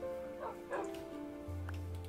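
Wild dogs in the Minecraft Hexxit modpack giving a few quick, faint yips and whimpering barks over a low game tone and a soft musical drone.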